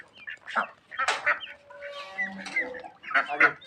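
Bantam chickens cluck and chatter close by in a pen among other farm birds, with short irregular bursts of clucking and brief calls.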